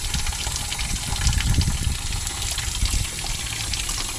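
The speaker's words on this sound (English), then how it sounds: "it's like clean water coming out" Clean flush water pouring and splashing out of an LT1 V8 engine block during a coolant flush, a continuous close gurgling trickle that swells briefly midway.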